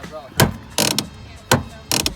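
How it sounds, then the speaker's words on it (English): Harsh mechanical grinding bursts repeat four times in uneven pulses, a rough clashing scrape of a car's worn clutch quadrant gear teeth up close. "the gear teeth on the clutch quadrant were grinding and they snapped"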